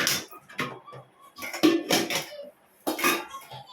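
A metal lid is set on a cooking pot of drumstick and bottle gourd sambar. It makes several sharp, close metallic clanks and clinks separated by short pauses.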